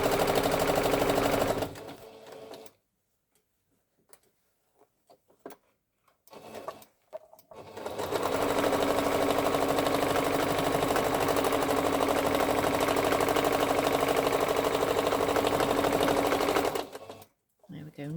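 A domestic sewing machine stitching a princess bag made from upcycled fabric runs in steady, rapid bursts, with a long continuous run after short stop-start stitches and pauses, loud and close with no talk over it.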